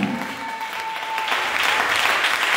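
A church congregation claps and cheers in acclamation of Jesus, a steady, dense wash of applause that swells louder in the second half, with a sustained sung or called tone woven through the early part.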